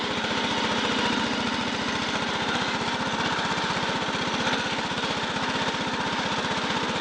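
A Bolens riding lawn mower engine, with a worn mowing deck bearing, runs at a steady, close, droning idle with a fast, even chug and no other sounds.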